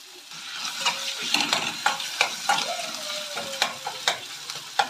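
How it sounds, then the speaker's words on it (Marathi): Potatoes sizzle and fry in a hot pan as a utensil stirs them, giving steady sizzling under repeated scraping clicks and knocks, close and moderately loud, with no talk. "मी पटकन हे जे पोटॅटो आहे यामध्ये घालते."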